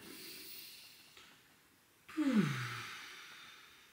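A person imitates childbirth labour breathing: a soft exhale, a pause, then a loud, hissing huff through the mouth, close to the microphone.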